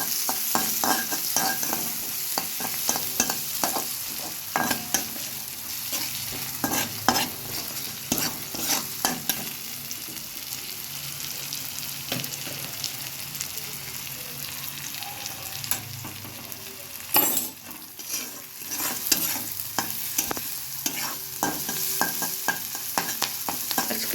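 Onion and crushed garlic fry in a small pan, giving a steady close sizzle under frequent clattering stirs and scrapes of a spatula, continuous for a long stretch with no talking.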